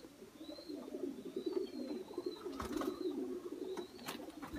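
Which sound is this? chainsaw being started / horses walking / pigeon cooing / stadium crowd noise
pigeon cooing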